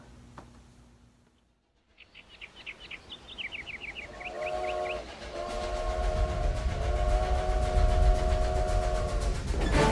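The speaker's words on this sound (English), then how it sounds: "pull down on the train whistle" A few faint chirps, then a train whistle sounds long and loud over the rising rumble and chugging of a passing train.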